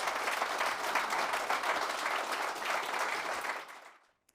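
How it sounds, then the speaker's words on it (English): An audience gives a round of applause for two gentlemen at an exclusive Kohler event at Carrington with Manchester United, steady full clapping that fades out near the end, leaving a final faint clap. "Just a round of applause for the two gentlemen."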